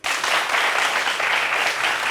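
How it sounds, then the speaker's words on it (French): A studio audience at a French talk show bursts into loud, close applause that begins sharply and stays thick and even until the end. "Voilà, et ça s'applaudit."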